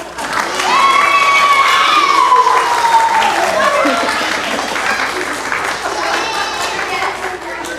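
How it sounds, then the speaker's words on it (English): A children's audience at a Vacation Bible School claps and cheers loudly, with high excited shouts and squeals rising over the steady clapping, which fades slightly in the later seconds. "Applause, please."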